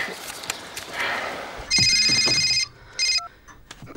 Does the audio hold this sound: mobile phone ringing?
yes